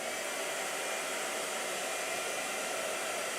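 A blow dryer runs with a steady, loud, broadband whoosh that holds unchanged from start to finish, with no voices.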